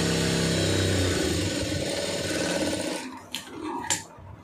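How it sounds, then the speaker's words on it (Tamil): A sewing machine runs steadily, stitching two fabric pieces together with a quarter-inch seam, a continuous close mechanical whir for about three seconds before stopping, followed by a couple of faint clicks and handling sounds. "அப்படியே ஒரு கால் இன்ச்சு தையல் போட்டுருங்க"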